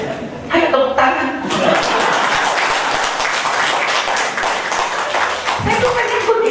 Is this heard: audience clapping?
yes